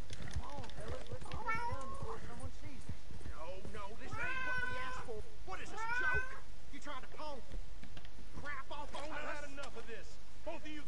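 A cat meows repeatedly inside the video game Red Dead Redemption 2, its short calls rising and falling over steady game background noise while a person talks nearby.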